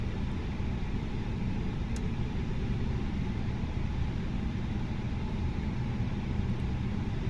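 Airbus A320 engines idle in the Fenix flight simulator at Los Angeles airport, giving a steady, dense broadband roar and hum that stays constant and unbroken throughout.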